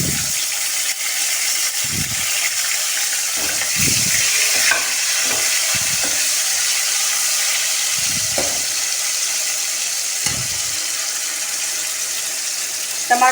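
Chopped tomatoes go into browned garlic frying in a pan, giving a steady hiss and sizzle with scraping stirs and occasional spatters, close up and without speech.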